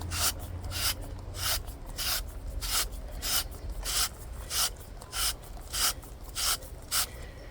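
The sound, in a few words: handheld spiralizer cutting zucchini into spirals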